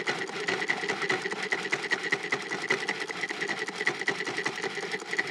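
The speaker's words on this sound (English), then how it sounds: "Now we're gonna grind this up." Food processor or grinder chopping egg roll filling seasoned with crushed chili pepper flakes, a steady close whirring motor buzz with a rapid pulsing texture, running continuously without talk.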